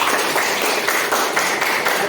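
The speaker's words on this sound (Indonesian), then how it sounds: "mari kita tepuk tangan untuk kita semua" A room full of teachers and students at an Indonesian school gathering claps together, a dense, steady wash of applause lasting the whole moment with no talk over it.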